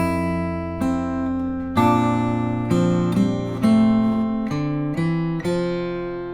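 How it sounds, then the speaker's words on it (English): Slow acoustic guitar intro to a song, picked one note at a time with an open G among the notes; about eight clear plucked notes ring and overlap, each fading before the next, with no talking. "So all together, that really slowly sounds like this."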